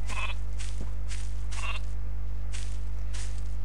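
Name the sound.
sheep bleating in Minecraft video game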